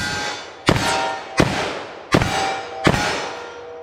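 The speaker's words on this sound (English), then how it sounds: "So follow-up shots, 44 mag, 12 yards." .44 Magnum revolver firing Underwood JHP rounds at 12 yards, four loud sharp shots in an even rhythm with a ringing decay after each.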